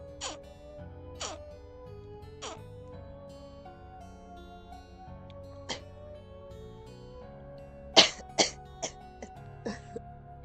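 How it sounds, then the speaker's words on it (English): Several muffled, suppressed coughs and throat clearings, spaced irregularly, with a tighter cluster of sharper bursts near the end, heard close over a quiet game background during a live horror visual novel playthrough. "Trying to suppress a cough."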